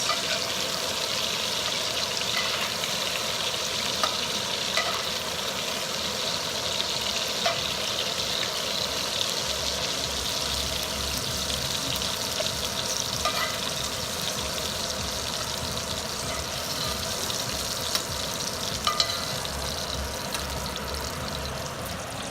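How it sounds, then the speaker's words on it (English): Onions and mushrooms frying in a pot for keto mushroom and meatball soup, with a steady, even sizzle that runs throughout and a few faint clicks over it. "And then we're gonna add in our onions. And then add in mushrooms."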